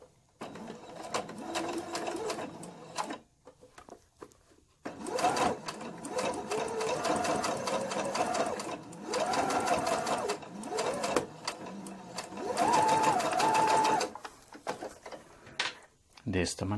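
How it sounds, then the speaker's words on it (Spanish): Sewing machine stitching near the edge of a folded fabric hem on a cloth school bag, running in several steady whirring bursts of a few seconds each, separated by short pauses, close and fairly loud. "lo coloco cerca de la patilla y voy a coser cerca del borde."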